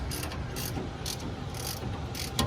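A wrench ratchets in short, repeated bursts while lock nuts are tightened on a threaded rod for a Roadmaster active suspension on a 2005 Dodge Ram 1500, loud and close over a steady background hiss.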